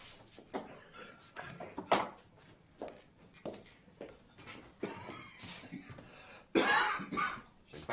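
A man coughs repeatedly in a quiet indoor room, short rough bursts with throat clearing spread over several seconds, moderately close and fairly soft.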